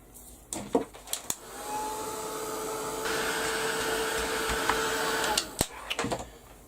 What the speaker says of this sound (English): I'm going to give that a quick blast with the heat gun as well